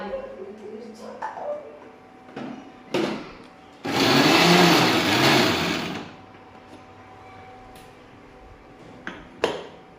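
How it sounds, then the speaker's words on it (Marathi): A kitchen mixer grinder whirs loudly in one short burst of about two seconds while grinding green chillies and peanuts, with quieter household sounds and voices around it before and after. "आता मिक्सरमधून मिरची आणि आबडधोबड शेंगदाणे बारीक करून घेतलेत"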